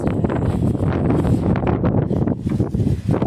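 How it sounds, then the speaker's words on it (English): Strong outdoor wind buffeting the microphone during a Vauxhall Adam oil change, a steady loud rumbling roar with gusty swells throughout and no talking. "Right, wind, please go away."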